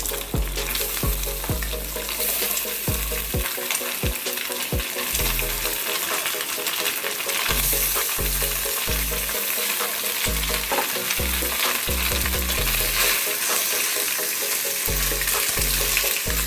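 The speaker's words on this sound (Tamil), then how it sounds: "கடுகு ஸ்ப்ளிட் ஆகிடுச்சு. கருவேப்பிலை ஆட் பண்ணிக்கலாம்." Mustard seeds and curry leaves sizzle and crackle loudly in hot oil, with repeated scraping stirs of a spoon against the pan in an uneven rhythm, close up and continuous throughout with no talking.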